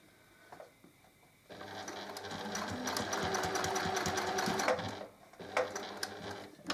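A sewing machine stitches a zippered pouch close by, running in a steady rapid whir for several seconds, pausing briefly, then starting again in a short burst.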